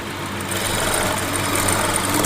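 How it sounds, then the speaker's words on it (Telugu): A sewing machine runs continuously at speed, stitching a net strip onto the edge of a frock, its fast mechanical whir and hum loud and close throughout. "ఇలా స్టిచ్ చేసాక ఎడ్జ్లో కూడా మనం ఇలా కుట్టేసుకోవాలి"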